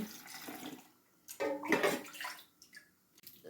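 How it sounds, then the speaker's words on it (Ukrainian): Cooled boiled water pours and splashes into jars of pickling cucumbers in uneven bursts, with a gurgling swell in the middle that tapers off, close and fairly quiet. "Заливаємо охолодженою кип'яченою водою."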